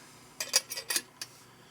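Metal lid set onto a Stanley Adventure cookset pot sitting over a lit alcohol stove, a quick series of light clinks and rattles, close and fairly quiet, with no talking.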